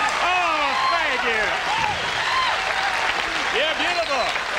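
A studio audience at a televised comedy variety show with Steve Martin claps steadily and loudly throughout, a dense, continuous wash of applause with voices cheering and calling out within it.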